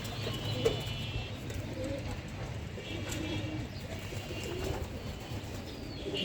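Soft, low cooing of pigeons with a faint chirp, under a steady background hum, fairly distant and quiet.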